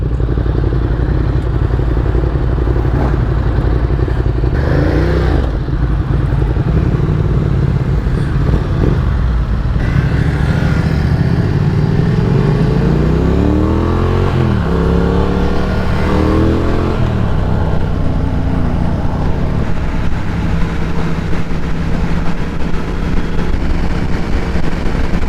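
A Triumph Thruxton 1200 motorcycle rides a short lap. Its engine rumbles steadily, then revs and climbs through gears in a loud sweep before settling back to a low drone, with wind noise throughout.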